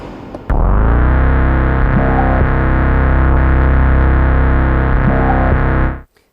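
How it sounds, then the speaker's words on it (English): A single sustained, heavily distorted tone from analog modular and boutique synthesizers swells in abruptly, holds steady with a buzzy, chorused character, then cuts off near the end. "these one-shot sounds are coming from actual analog modular synthesizers and boutique synthesizers"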